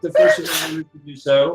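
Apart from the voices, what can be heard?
sneeze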